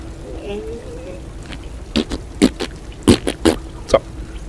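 Lara Croft relieves herself in Tomb Raider, a short run of close, irregular liquid splashes and dribbles under someone speaking German.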